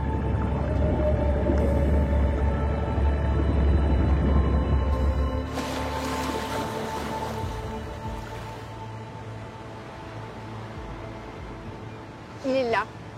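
A dolphin calls underwater with faint whistles and a rapid buzzing click train near the end. Steady low water rumble fills the background, and a muffled voice hums in the first seconds.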